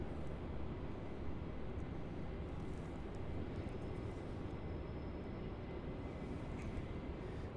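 A Qantas aircraft in retro livery taxis at Melbourne Airport, giving a steady, distant engine rumble and broadband roar that holds even throughout.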